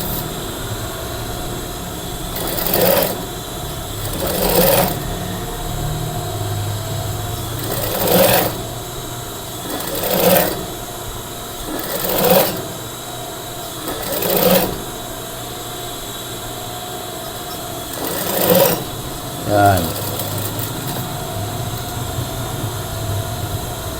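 A sewing machine runs long basting stitches on a collar in short bursts, about eight separate stitching runs with quiet pauses between them, close and clear with no talk.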